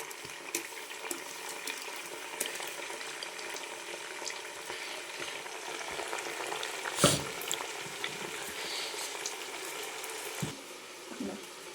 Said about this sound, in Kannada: ನಾನು ಈರುಳ್ಳಿ ಮತ್ತು ಬೆಳ್ಳುಳ್ಳಿ ಮಾತ್ರ ರುಬ್ಕೊಂಡಿರೋದನ್ನು ಫಸ್ಟು ಹಾಕ್ತೀನಿ